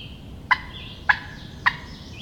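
A wild turkey hen answers a call with three short, sharp, evenly spaced yelps, clear and fairly close over quiet outdoor background.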